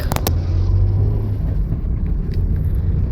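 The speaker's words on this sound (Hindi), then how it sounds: "Back to Delhi, back to traffic." Road traffic in Delhi, a steady low rumble of cars and engines passing close by, continuous and fairly loud with wind buffeting the microphone.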